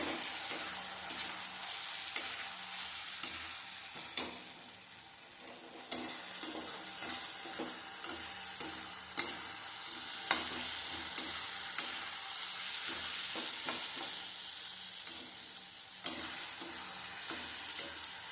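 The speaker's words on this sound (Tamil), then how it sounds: "இப்போ தக்காளியும் நல்லா குலைவாக வதங்கிருச்சு. சின்ன வெங்காயமும் நல்லா வதங்கிருச்சு." Tomatoes and shallots sautéing in a pan, giving a steady close sizzle with frequent stirring scrapes throughout, no voices.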